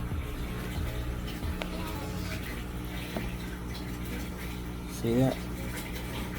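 Water drains from an aquaponics system tank with a steady gurgling rush and a brief louder slurp near the end, while someone talks over it.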